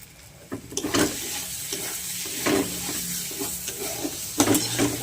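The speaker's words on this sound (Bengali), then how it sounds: "তেলটা একটু গরম হোক, যেহেতু সরিষার তেল একটু গরম হওয়া দরকার" Mustard oil heats in a pan on a gas stove, giving a soft, steady sizzle broken by a few louder clinks and stirring scrapes of a utensil, close by and with no talking.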